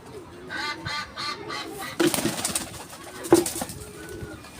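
Pigeons coo in a loft, their soft throaty calls repeating in a rhythmic series, joined midway by wing flaps and scuffling at close range.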